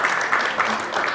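A magic-show crowd keeps clapping for a volunteer onstage, a brief dense burst of applause with some talk over it.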